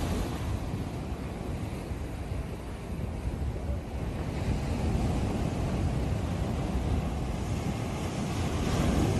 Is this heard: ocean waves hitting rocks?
yes